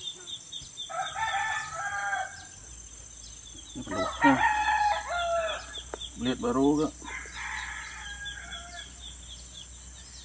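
A rooster crows twice, loud and close, with someone speaking briefly between and around the calls.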